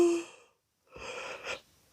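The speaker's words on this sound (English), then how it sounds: "that was the human yawning" A person yawns close by, a long breathy drawn-out exhale, then a pause and a second breathy, strained yawn-like sound, with no talk.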